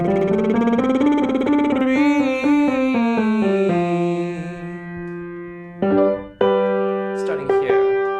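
A sung lip trill with buzzing lips carrying a pitched voice in a stepped melodic line that opens into a clear sustained "E" vowel partway through, followed by short separate sung phrases, close and loud.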